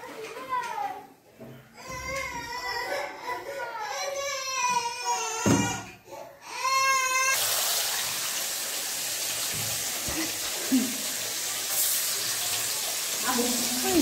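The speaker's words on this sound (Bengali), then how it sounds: "নুন হলুদ মাখানো হয়ে গেছে, এবার মাছগুলো ভেজে নেব।" Salt-and-turmeric-coated fish pieces hit hot oil and fry, a loud, steady broadband sizzle taking over after several seconds of a voice and chatter nearby.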